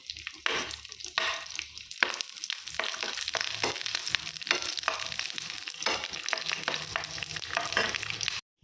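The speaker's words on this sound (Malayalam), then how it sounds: "കുറച്ച് കാഷ്യൂ, കുറച്ച് കിസ്മിസ് കൂടെ നെയ്യിൽ വറുത്തെടുക്കണം." Cashews and raisins fry in hot ghee with a steady, close sizzle and crackle, broken by scraping stirs from a spoon in the pan, continuous and with no talking.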